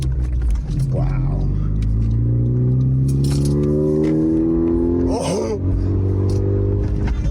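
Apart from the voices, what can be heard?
car with catless exhaust revving engine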